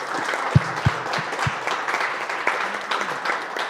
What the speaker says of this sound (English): I want to just give a round of applause to these guys for just being so brave